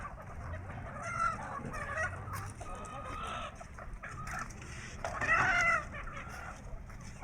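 Chickens cluck and squawk close by while being ferried by boat across the river at a Thai–Lao border crossing, their agitated calls rising in bursts over steady outdoor background noise.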